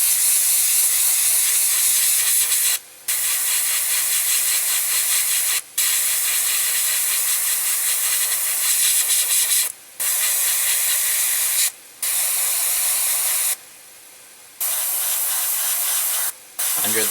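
Badger Minitaire airbrush spraying paint, a loud close hiss of compressed air in long bursts broken by several brief pauses, with no talking.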